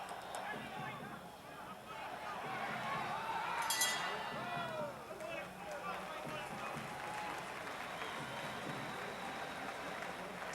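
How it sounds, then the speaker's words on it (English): An arena crowd applauding a boxer, Axel Schulz, in his corner between rounds of a heavyweight fight against Michael Moorer. The clapping and crowd noise are steady and distant, with a commentator talking over them. "An appreciative crowd giving a round of applause to their man, Axel Schulz, as we see him there in his corner"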